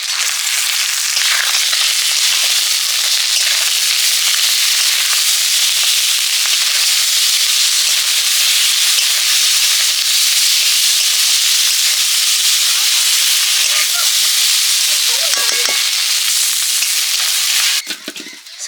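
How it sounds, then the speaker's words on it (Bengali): A ground paste of onion and dried chili hitting a hot pan already used for frying rupapatia fish, a loud, close, continuous crackling sizzle that holds steady before tapering off near the end. "এবারে আমি পেঁয়াজ আর শুকনো লঙ্কা একসঙ্গে বেটে নিয়েছি এই বাটাটা দিয়ে দেবো"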